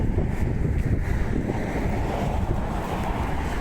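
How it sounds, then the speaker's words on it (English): Steady, loud gusts of wind buffet the microphone outdoors on a walk near the Bannock Burn bridge, a continuous low roar with no talking. "Oh yeah, it's windy, isn't it?"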